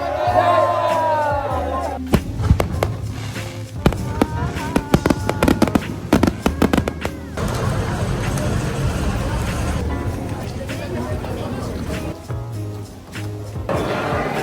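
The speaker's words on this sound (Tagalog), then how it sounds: "Pero may ano daw, fireworks." Fireworks at a wedding reception crackle and pop in rapid bursts, loud and close, while a crowd murmurs and people talk nearby.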